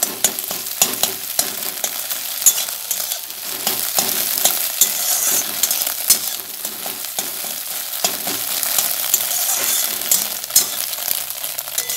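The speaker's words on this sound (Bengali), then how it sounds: "আমার ডিম ভাজা হয়ে গেছে" Scrambled egg fries and is stirred in a wok while cooking chow mein, giving a steady close sizzle with frequent scraping, clattering utensil strokes throughout, with no talking.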